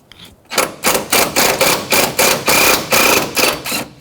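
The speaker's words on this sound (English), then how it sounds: "I'm just going to take the bolt out that holds the hold down" A socket wrench on a Toyota Corolla battery hold-down bolt: a quick run of loud, evenly spaced ratchet clicks, about a dozen sharp ticks close to the microphone, with no talking.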